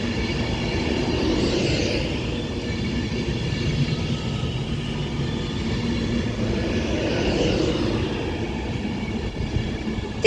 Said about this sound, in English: a Class 390 Pendolino, which is just arriving in now onto platform 6